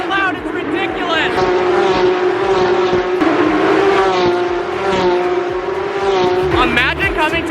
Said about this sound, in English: Cars are so loud, it's ridiculous!